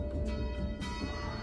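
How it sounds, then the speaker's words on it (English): A town alarm bell rings amid chaos, with two clanging strikes standing out over a low, noisy background, moderately faint and without speech. "Someone is still ringing that bell."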